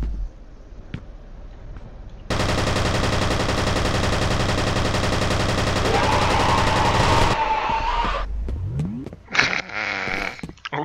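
Sustained burst of automatic gunfire in the video game F.E.A.R., loud and dense for about five seconds, then tapering into scattered shots and impacts, with no talk.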